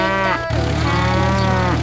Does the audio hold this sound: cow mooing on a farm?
yes